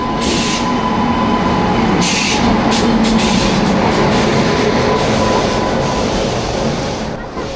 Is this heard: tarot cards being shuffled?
no